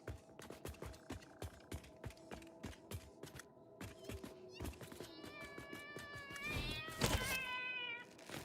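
Alpha cat creature from the video game Satisfactory meowing repeatedly, with eerie wavering yowls rising louder toward the end over rhythmic mechanical game thuds and clanks.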